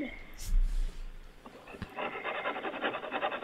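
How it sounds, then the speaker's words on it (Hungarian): Scratching caught on a security camera recording: a steady run of rough, rasping strokes, fairly close and moderately loud, following a few scattered thumps and a low rumble. "Kaparás hang, igen."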